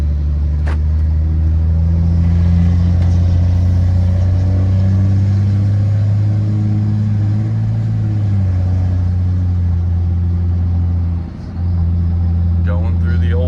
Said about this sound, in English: Going through the old gears here.